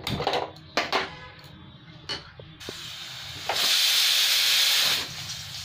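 A few sharp metallic clanks from pots, then a loud steady steam hiss from a pressure cooker of dal on a gas stove, starting abruptly, holding about a second and a half, and cutting off.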